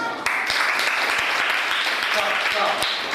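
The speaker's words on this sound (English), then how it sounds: "Please give her claps." Seventh-grade classroom students clapping together, a loud, dense burst of applause starting abruptly and continuing steadily with sharp individual claps mixed in.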